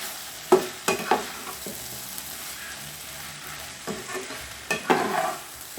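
A fajita mixture sizzles in a pan while a spoon stirs it, with a few distinct knocks and scrapes at the start and again near the end over a steady hiss. No talking is heard.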